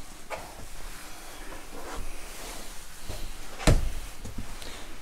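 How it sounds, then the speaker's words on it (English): A bifold door in a motorhome is handled, with soft shuffling and rattling, then one sharp clack of the panels folding shut near the end, close and fairly loud. "Bifold door."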